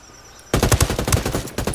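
Heavy gunfire from a Ghost Recon online firefight, a rapid volley of close, loud shots in uneven bursts after a quiet lead-in.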